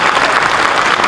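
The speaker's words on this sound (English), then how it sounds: "round of applause." Audience applause at a Texas Frightmare horror convention costume event, a dense steady wash of clapping from a crowd for just over a second, loud and continuous with no pauses.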